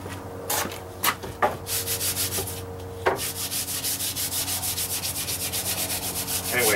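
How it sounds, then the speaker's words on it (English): Light hand sanding of a finished wooden bench between coats, a few scattered scrapes and then a steady run of quick rhythmic rubbing strokes, close and clear with no talk. "Anyway, I'll sand this lightly to get ready for the final coat."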